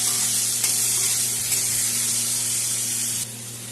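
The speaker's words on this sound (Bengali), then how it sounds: "এখন আলুটা ভাজা করে নেব" Potatoes frying in a pan with salt and turmeric give off a steady, loud, close sizzling hiss that holds evenly throughout, with a slight drop near the end.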